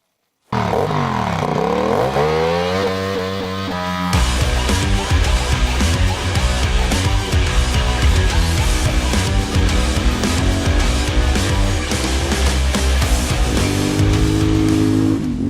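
An F.B. Mondial Piega 452 motorcycle is ridden, its engine starting up and then running loud and close with repeated revving and gear changes over a sustained stretch.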